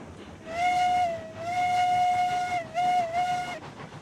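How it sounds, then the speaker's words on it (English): Steam locomotive whistle in the Railroads Online railway game, one loud steady tone blown in three long blasts with short breaks, over a low background hiss. "still give her a nice little whistle"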